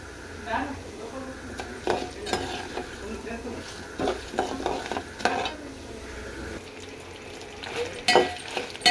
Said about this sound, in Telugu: ఇవి దూరగా వేగిన తర్వాత ఎండుమిర్చి వేయాలి. పప్పు వేగిపోయాయి.